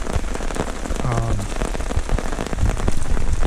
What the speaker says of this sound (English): This is the rain pooling on this, tarp.